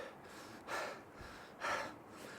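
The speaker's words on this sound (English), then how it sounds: "I'm really struggling with the breathing" Heavy, labored breaths from a walker on an exposed coastal path in cold wind, two loud gasping exhalations about a second apart over a steady windy hiss, close to the mic.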